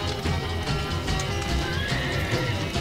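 A horse in the medieval MMO Life is Feudal whinnies amid busy clip-clopping hooves and battle clatter, loud and continuous, with no voices in the moment.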